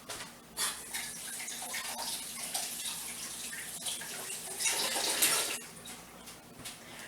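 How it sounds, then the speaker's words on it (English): Tap water runs steadily into a sink as an onion is rinsed beneath it, a continuous close splashing stream that swells briefly near the end before easing off. "When you rinse your onions off, it makes them less slippery."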